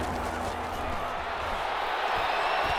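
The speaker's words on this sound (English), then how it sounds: "Here comes a big one as this crowd gets up making some noise." Stadium crowd noise from the Madden NFL 21 video game builds into a dense, loud roar as fans rise on a big third-down play, a steady wash of cheering throughout.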